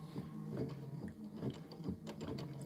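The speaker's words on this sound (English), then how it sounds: "placement stitch first for your egg" An embroidery sewing machine runs a placement stitch, a quiet, rhythmic mechanical chatter of needle strokes and whirring gears, steady and close, with no talking over it.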